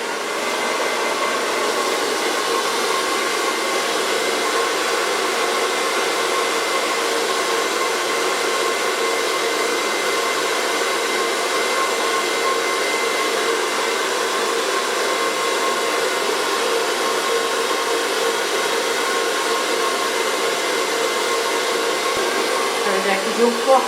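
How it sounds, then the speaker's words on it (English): A hair dryer blows steadily and loudly on bleached short hair, one continuous close-up whoosh with no pauses. "you can feel the heat of the blow dryer"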